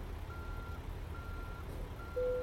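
In a trucking video game, a truck's reversing alarm sounds three evenly spaced steady beeps over a low engine rumble, with a louder, higher tone cutting in at the end.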